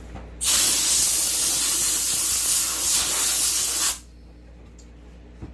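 A burst of compressed air blows 180-grit sanding dust off a wooden sign, one loud continuous hiss lasting about three and a half seconds before cutting off, quiet room either side.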